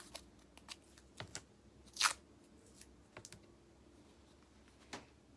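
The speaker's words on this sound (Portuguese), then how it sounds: "Vou cortar mais fita aqui pra mim." Scissors snip tape in a home workspace while papier-mâché alebrije figures are made, giving a few quiet, scattered clicks and one crisper cut in a hushed room.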